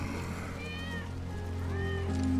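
Cat meowing in Final Fantasy VII Remake Intergrade, a few rising and falling mews over a steady low game hum and background noise, fairly close and moderately loud.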